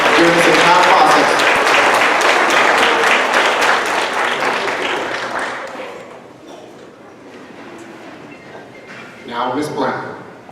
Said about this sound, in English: give our outstanding administration team a big round of applause for their support and their leadership during this entire process